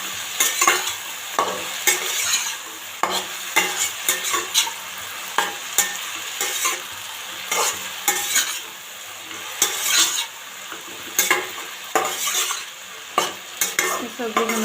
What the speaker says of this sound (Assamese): ভালদৰে এনেকৈ লৰাই দিম মই।